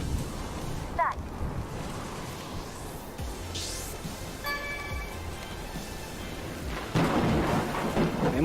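Thunderstorm in the VR wingsuit game RUSH: rumbling thunder and steady rain-like wash with whooshing swoops, a louder rolling surge near the end.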